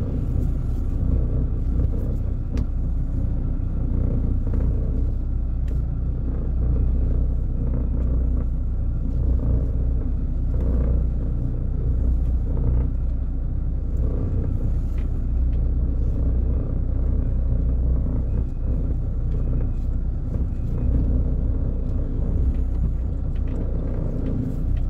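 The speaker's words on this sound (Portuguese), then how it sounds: "caminhão trucado, galera. É dentro da cidade," A tandem-axle truck rumbles steadily through a town in Bom Conselho, Pernambuco, with a deep, continuous low engine drone that holds at a loud, even level for the whole stretch, with no talk.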